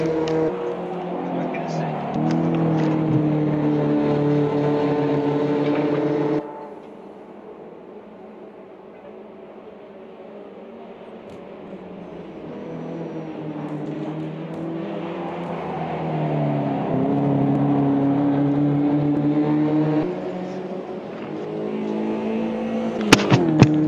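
Race cars lapping in the Automobilista 2 sim racing game, engines droning and revving continuously with pitch rising and falling as the field passes, loud at first, dipping for a stretch, then swelling again, with no talk over it.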